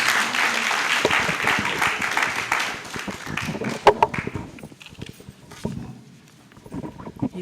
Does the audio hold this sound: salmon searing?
no